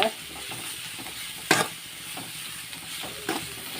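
Onions fry in a pan with a continuous soft sizzle, while a spatula scrapes through them now and then, one sharper knock standing out midway.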